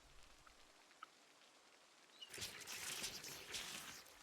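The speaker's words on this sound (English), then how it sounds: "And just let it fill via the rain." Rain in Project Zomboid Build 42 sets in abruptly partway through, a steady close hiss of drops falling on surfaces, after a quiet start with only a faint tick or two.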